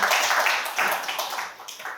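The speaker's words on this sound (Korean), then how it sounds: "우리 선생님 박수 한번 주십시오" An audience at a lecture hall claps for a teacher, a brief burst of steady applause that fades slightly after two seconds.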